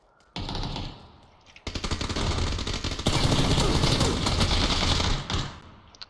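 Dense automatic gunfire in PUBG during an 8 vs 8 fight among shipping containers: sustained loud rattling bursts that build after a short opening shot and keep up fast and near before tapering off.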